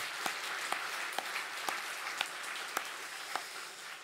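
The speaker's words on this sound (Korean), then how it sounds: "우리 박수로 환영하겠습니다" A church congregation at a Korean Sunday worship service applauds in welcome, a soft, distant, even patter of clapping with a few sharper claps standing out at a regular pace.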